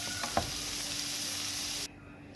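Meat sizzling in a pan as it is stirred, a steady close frying hiss with a few scraping clicks of the utensil early on before the sizzle drops away abruptly near the end.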